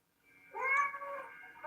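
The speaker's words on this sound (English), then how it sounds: "That cat over there is meow, meow, meow, going crazy." A cat meows loudly nearby in one drawn-out, rising-then-falling yowl that tails off before a second call begins, with no talking over it.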